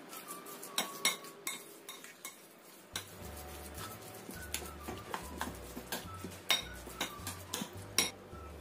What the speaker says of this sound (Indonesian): Ini kita aduk sampai tercampur rata semuanya.